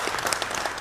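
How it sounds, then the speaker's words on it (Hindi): A brief burst of studio audience applause at a television quiz show, dense overlapping claps filling the moment, fairly loud and close. "ऑडियंस इनके लिए क्लैपिंग तो बनती है, तालियां बनती हैं"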